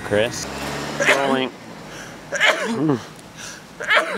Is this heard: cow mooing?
no